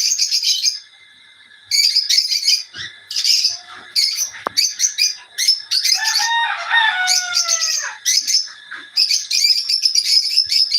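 Caged lovebirds on a farm chirp loudly and close, in rapid shrill bursts with short pauses, several birds overlapping.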